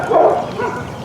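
Dogs bark and yip in quick bursts close by on a cold day outdoors, with a steady bark-filled stretch and no speech over them.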